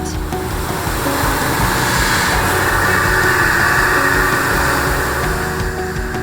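A Multicut XF milling tool cutting aluminum at 6,320 RPM and 49 inches per minute feed, a loud steady whirring roar with a constant high hiss and tonal whine, unbroken throughout.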